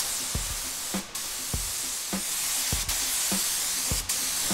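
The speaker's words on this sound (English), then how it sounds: "Now I'm going to spray my 2K clear on top and try and get some orange peel." A spray gun lays 2K clear coat onto a panel with a steady, dense hiss of spray broken by regular short pauses and clicks roughly every 0.6 seconds as the passes repeat.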